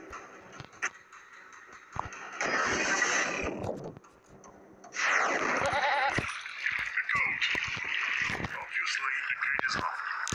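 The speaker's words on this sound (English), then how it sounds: "Let's go get a goat." Bleating of a goat in a video game, two long wavering bursts separated by a pause, with soft clicks and other game noises between them.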